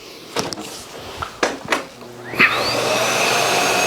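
A Miele Boost CX1 Cat & Dog vacuum cleaner working on a rug: a few knocks and bumps as it moves, then the motor settles into a steady loud whine.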